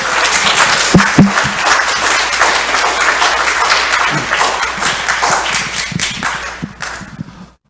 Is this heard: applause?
yes